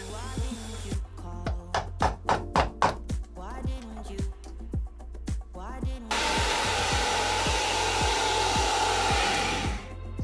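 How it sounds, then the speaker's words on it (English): Power drill boring through concrete into a 2x4 behind it, heard up close as a run of short bursts with pauses and then a longer continuous loud grind. "I was drilling hard against concrete and going into another piece of 2x4"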